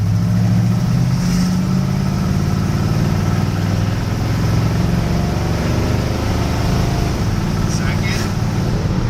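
A Chevy truck engine runs steadily and loud during a transmission shifting test, a constant close rumble with a low drone and a slight pitch change partway through.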